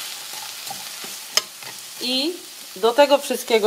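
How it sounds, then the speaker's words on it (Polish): Onion frying in olive oil in a pan, a soft sizzle with a few stirring scrapes, while someone talks over it in the latter half. "Teraz będę smażyć cebulkę."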